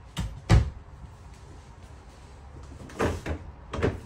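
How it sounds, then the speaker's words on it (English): Pull-out pantry drawers in a 2022 Cedar Creek 371FL front-living RV, sliding and thudding shut in a few separate knocks with quiet gaps between, close and fairly loud. "So you get the pantry and you get the drawers that pull out."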